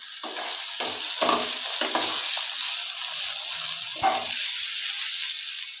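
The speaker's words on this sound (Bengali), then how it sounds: "এবার এগুলোকে একসাথে নেড়ে চেড়ে ভেজে নেবো" Chopped onion, green chillies and tomato stir-fried with fresh winter vegetables in a hot pan: a steady loud sizzle with repeated scraping strokes of a spatula as the mix is tossed, close and without talk.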